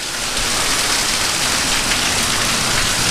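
Steady heavy rain pours during outdoor grilling, a dense continuous hiss of drops hitting surfaces that stays loud and even throughout with no voices.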